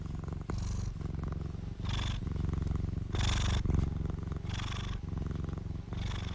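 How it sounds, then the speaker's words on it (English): A cat purrs close to the microphone in a quiet closet, a low continuous rumbling purr with rhythmic pulses of breathy inhales and exhales about once per second. "so here are some purrs."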